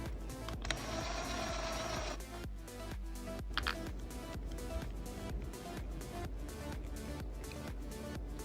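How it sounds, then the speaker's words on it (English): A cordless electric drill whirs in short, repeated bursts as it starts screws into the plastic gearbox of an HBX 16890A RC car, the motor buzzing steadily close by with brief pauses between pulses. "I'm being really careful using this drill and only using it to start the screws"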